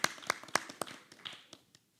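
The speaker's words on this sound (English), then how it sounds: "So I want to give a big round of applause." A temple audience applauds: a short, quiet round of scattered hand claps, a few distinct claps that thin out and stop after about two seconds.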